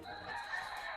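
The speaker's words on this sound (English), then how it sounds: "Can you guys still hear the roosters going?" A rooster crows somewhere outdoors during a home leg workout, one drawn-out raspy call lasting about a second, moderately distant and fairly soft.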